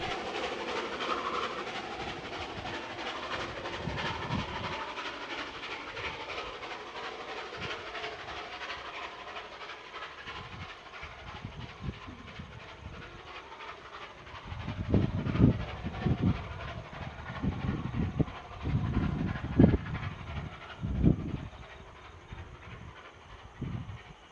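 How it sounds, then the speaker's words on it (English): Coal trains passing through the Hunter Valley in New South Wales, a long steady rumble and hiss with rhythmic clickety-clack of wheels over rail joints growing louder toward the end, heard from trackside without speech. "we see more coal trains passing through"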